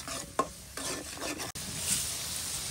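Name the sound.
sautéing spice paste (masala) in a pan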